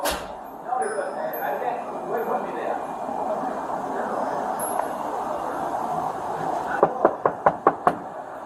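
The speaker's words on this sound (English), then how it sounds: "I'm out here knocking on the door and no one's answering." A police officer raps on a front door during a welfare visit to an elderly resident, a quick run of about six sharp, loud knocks near the end, following a stretch of background chatter and radio noise.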